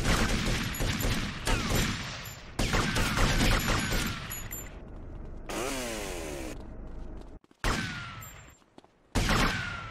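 Rapid automatic gunfire rattles through a mall shootout in GTA Vice City, loud sustained bursts of shots separated by brief pauses, with game sound effects between volleys.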